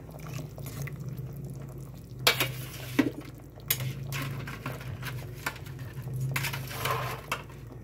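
Raw shrimp drop into a hot frying pan with a burst of sizzling, followed by close stirring and utensils scraping and clinking against the pan, with sizzle continuing underneath.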